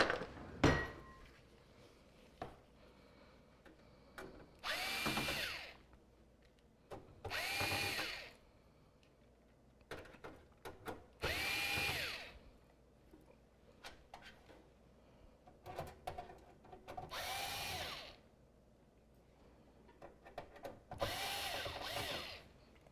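A power screwdriver whirs in short bursts as it backs mounting screws out of motherboard standoffs during a PC upgrade, about six spins spaced a few seconds apart with small clicks and handling sounds between, close but fairly quiet.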